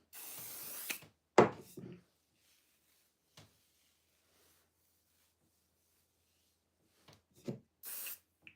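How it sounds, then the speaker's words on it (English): Heat protectant spray is misted onto a section of hair in short bursts: one hiss at the start and another near the end, with quiet rustling and handling between them. "Do heat protectant spray on this section."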